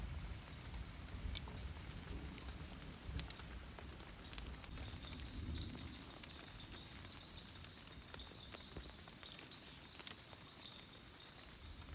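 Rain falling at night in a forest near an abandoned farm hut, a steady soft patter and hiss with scattered louder drops and faint insect whine throughout, no voices.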